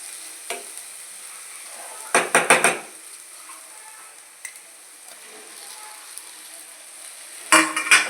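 Sliced boiled eggs fry in a pan with a soft, steady sizzle, broken by a few short clattering bursts of a utensil stirring and scraping against the pan.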